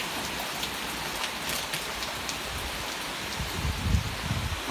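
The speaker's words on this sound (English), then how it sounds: "Oh my God, this rain." Heavy thunderstorm rain pours steadily onto surfaces near a dark street at night, a dense, even hiss of drops with a slight low rumble toward the end.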